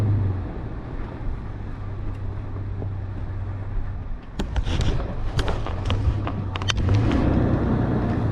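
A high-clearance two-wheel-drive vehicle climbs a mountain road in second gear with traction control off, a steady low engine drone with rough crunching bumps and rattles from about four seconds on, fairly close.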